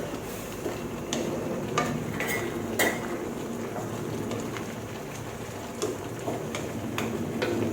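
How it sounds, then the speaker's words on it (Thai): A spoon stirs Thai pickled bamboo shoot curry with snakehead fish and holy basil in a pot, with faint, irregular clinks and taps against the metal over a soft, steady background. "ให้คนค่ะ ให้เริ่มคนให้มันเข้ากันค่ะพี่น้อง"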